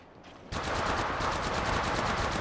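Rapid automatic weapon fire in Apex Legends Mobile erupts after a quiet start, then continues as a loud, steady stream of evenly spaced shots with no talking.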